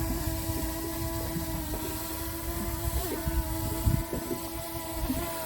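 A small boat's outboard motor drones at full throttle on the Ohio River in strong wind, a steady buzzing engine tone with slight pitch wobbles under heavy wind rumble and water slap, loud and close.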